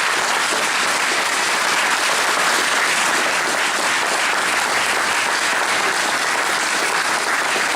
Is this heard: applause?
yes